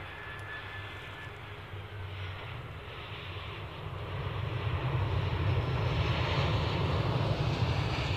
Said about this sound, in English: The next EasyJet in the EasyJet KLM sandwich is about to get the wheels down.